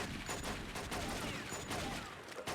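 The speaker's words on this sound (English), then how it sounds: "excuse the very loud gunfire" Rapid gunfire rattles continuously through the short stretch, dense and fairly loud, from a gun battle in the video game True Crime: New York City.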